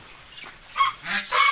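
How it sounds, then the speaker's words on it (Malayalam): Ducks kept in a chicken coop give a few short, nasal honking calls close by, in quick bursts over a quiet background. "അതിൽ 2 താറാവുണ്ട്."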